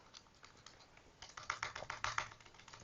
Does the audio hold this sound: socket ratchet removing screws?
no